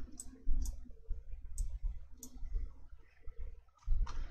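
A computer mouse clicking while working in an Excel spreadsheet: five or six crisp, isolated clicks spaced irregularly about half a second to a second apart, close and fairly quiet over a soft background murmur.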